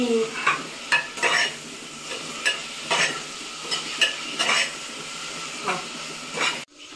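Onions and green chillies frying in a pan for biryani, a steady sizzle broken by repeated scraping stirs at close range, about ten strokes in irregular rhythm before a sudden stop.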